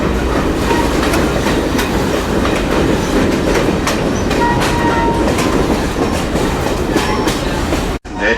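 A Conway Scenic Railroad passenger train rolls along the tracks with a steady rumble and repeated clickety-clack of the wheels, loud and close, ending with a sudden cut.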